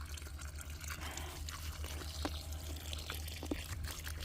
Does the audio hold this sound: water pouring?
yes